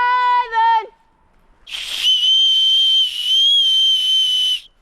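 A person whistles at a campsite, first a short warbling call, then a pause, then a long, loud, piercing steady whistle held for several seconds.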